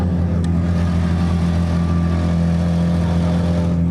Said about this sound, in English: Listen to that twin exhaust 4-litre flat six, 510 brake horsepower